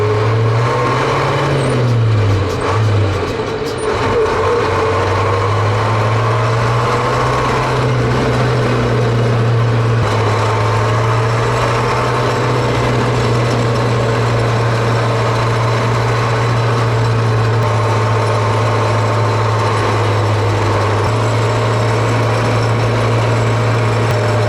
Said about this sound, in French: Mais il m'a l'air très à l'aise le camion au niveau moteur.